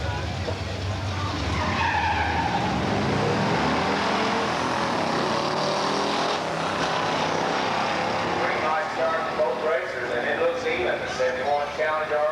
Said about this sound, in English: car number 23, that's Tom Halsman, the 71 Challenger, 446 pack and a 4-speed.